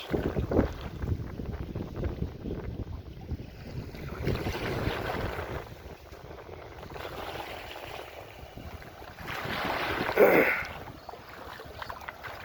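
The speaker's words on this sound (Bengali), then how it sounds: "দুপুর অনেক রোদ তার চেয়ে বাতাসও আছে মোটামুটি ভালোই খারাপ না বাতাস অনেক বাতাস" Strong wind blows by the Padma river in the sunny midday, buffeting the microphone with a continuous roar that swells and eases, with a louder gust near the end.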